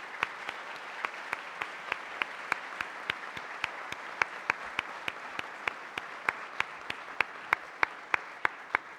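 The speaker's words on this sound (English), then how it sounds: "we can just applaud the whole group" Applause for a group of interns at a 2014 award ceremony: sharp, evenly spaced claps ring out near the listener over a continuous wash of crowd clapping, keeping a steady rhythm throughout.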